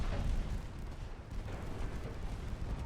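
Naval gunfire from 4-inch guns in the warship game Ultimate Admiral Dreadnoughts, a heavy rumbling boom that opens loud and settles into a sustained low roar of distant shots and rolling echoes, with no talking.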